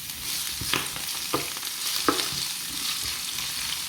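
Onions, mustard seeds and dried red chillies fry in a pan for a Sri Lankan Tamil tin fish and carrot varai, giving a steady close sizzle with a few soft stirring scrapes and no talking.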